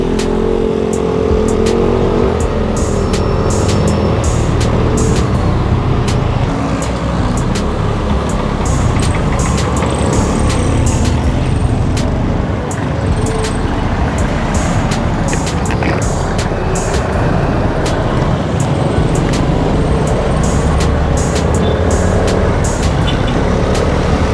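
Busy road traffic near Calamba is heard from a Suzuki Burgman Street 125 scooter: a continuous loud roar of cars, trucks and motorcycles with engine drone, passing vehicles and scattered ticking and clicking throughout.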